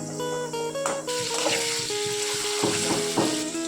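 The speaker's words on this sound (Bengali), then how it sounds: "এর মধ্যে দিয়ে দিচ্ছি নুন, হলুদ, মিক্স করে নেব একটু। এটাকে একটু ভেজে নেব পেঁয়াজটাকে।" Chopped onion frying in oil in a pan with salt and turmeric, for a Bengali sidol chutney: a steady, close sizzle with soft stirring scrapes and a few clinks, with no talking.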